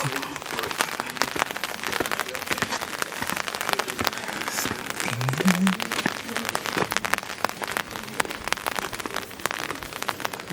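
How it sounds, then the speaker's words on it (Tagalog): Steady rain patters on a surface throughout, dense and crackly, with a few brief low sounds and faint voices in the background, in Armenia. "Ulan na."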